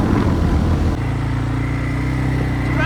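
A motorbike rides along a snowy road, its engine a steady, close drone that continues unbroken with no voices.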